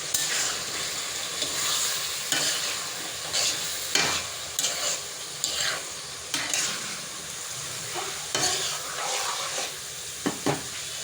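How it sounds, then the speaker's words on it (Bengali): Shrimp sautéing in a pan with onion, ginger, garlic and tomato: a steady close sizzle broken by repeated scraping stirs, with no voices. "চিংড়ি মাছ একটু পেঁয়াজের সাথে কষায় নিয়ে হলুদ মরিচ দিয়ে একটু পরে"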